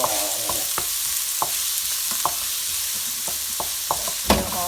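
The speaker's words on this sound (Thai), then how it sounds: "แล้วนี่ก็เจียวหอมหัวใหญ่นะ" Onions frying in a pan, a continuous loud sizzle broken by sharp scraping stirs and spatula knocks at irregular intervals, the last one heavier, with no one talking.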